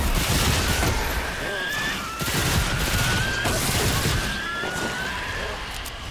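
Sustained gunfire from a weapon in the video game Remnant 2 fills the scene, with dense rapid shots that blend into a continuous loud barrage.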